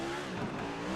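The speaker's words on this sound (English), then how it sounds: "Sean Conklin doing his burnouts." Race car doing burnouts at Martinsville Speedway, a steady, faint engine roar with a droning tone held for about a second, no voices.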